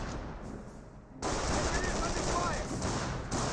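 Company of Heroes battle gunfire erupts after a quieter start into sustained rapid machine-gun and rifle bursts, with commentary running over the din.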